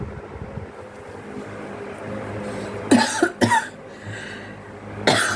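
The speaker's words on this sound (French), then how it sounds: "si je tousse, ça va pas le faire" A few sharp coughs close by, two in quick succession and another a moment later, over a low background hum.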